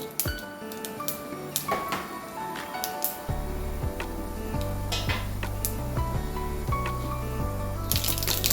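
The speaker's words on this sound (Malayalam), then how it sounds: "കടുക് ഉഴുന്ന് പരിപ്പും പൊട്ടുന്നുണ്ട്" Mustard seeds and urad dal crackle and pop in hot oil, sharp scattered snaps over a low steady tone, with occasional metallic clinks.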